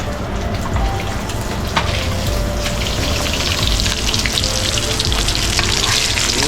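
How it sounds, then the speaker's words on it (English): Bluegill fish fry in a pan with a loud, dense, continuous sizzle and crackle, close up and steady throughout, without any talking over it. "the fins start turning kind of a goldeny color. That's usually a good sign that it's about time for a little flip"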